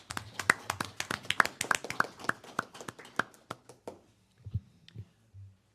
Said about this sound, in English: So how about a round of applause for Katie?